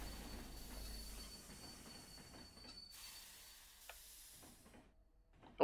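A train in the railway game Terminal Railways brakes to a stop at a platform, a faint high wheel squeal with soft rhythmic clacks fading out as it comes to rest.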